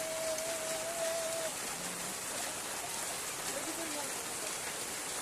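Light, steady drizzle falls close by as a constant soft hiss of fine raindrops, with a faint voice or two at times in the background.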